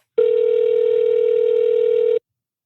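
A telephone call to a bar's general manager gives one steady, loud ringback tone that holds unbroken for about two seconds and then stops, with no voices over it.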